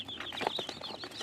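Many young chicks peep in a box with a hen, a busy chorus of high, rapid chirps close by, with a soft cluck or two from the hen mixed in.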